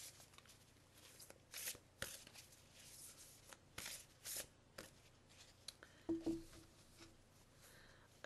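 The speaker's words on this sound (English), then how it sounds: "So I'm shuffling these Angel Blessing cards" Angel Blessing cards are shuffled by hand in a quiet room, giving soft, irregular riffling and slapping bursts close to the microphone.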